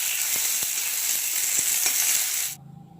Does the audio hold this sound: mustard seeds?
yes